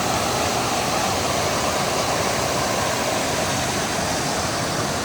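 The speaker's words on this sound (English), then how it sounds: "Waterfalls are so magical." Steady, dense roar of a waterfall close by, a continuous broadband wash of falling water that holds evenly loud throughout with no voices over it.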